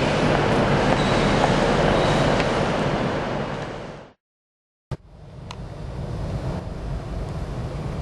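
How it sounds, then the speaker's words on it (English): A train rumbles along steadily with a loud roar, cuts to sudden silence, then resumes after a sharp click, rolling on more quietly. "That's my train."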